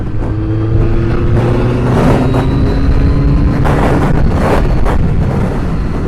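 A BMW motorcycle roars along a road in Brittany, its engine drone steady and loud under heavy wind buffeting on the microphone, with passing traffic swelling briefly.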